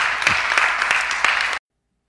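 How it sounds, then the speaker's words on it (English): A church congregation applauds steadily with dense hand clapping for about a second and a half, then it cuts off abruptly into silence. "Let's give Jesus a big hand clap today"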